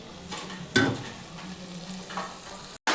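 Cooked dal goes into a frying pan for sambar, hissing and sizzling softly while being stirred, with a couple of louder splashy surges and a brief cut to silence near the end.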